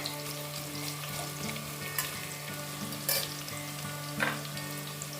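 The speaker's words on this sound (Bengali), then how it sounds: "পেঁয়াজটা বেশ অনেকটাই ভাজা হয়ে এসছে" Onions frying in oil in a pan for chicken keema ghugni, a constant close sizzle broken by a few sharp stirring scrapes, with no voices.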